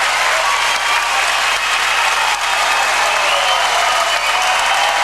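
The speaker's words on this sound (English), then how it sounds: "Listen to the crowd." A crowd at a state swimming championship applauds loudly and steadily after a record-setting race, with dense sustained clapping filling the whole stretch without pause.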